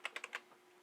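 Four quick, faint keystrokes on a computer keyboard while a Linux command is typed, followed by a brief pause and one softer tap, with no talking.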